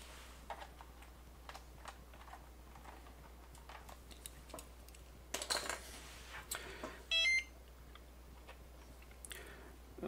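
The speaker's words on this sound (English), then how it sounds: "so it's mounted the SD card. That's what the beep was." An Alphasmart Dana laptop gives a short, sharp electronic beep when mounting an SD card. It sounds once, faint and close, among light clicks and handling noise in a quiet room with a low hum.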